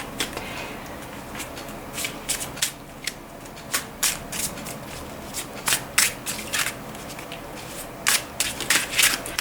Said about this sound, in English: I pre-shuffle a lot already